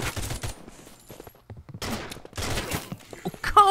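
Gunfire from a weapon in the shooter game Capsular: several bursts of rapid, loud cracking shots separated by short pauses, with fainter clicks and movement sounds between them.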